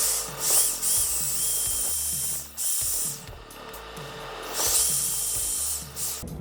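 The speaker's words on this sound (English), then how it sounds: "Let's drill those pilot holes." A power drill bores pilot holes in wood for an outdoor lizard enclosure, whirring in several bursts with brief pauses, close and fairly loud, no talking.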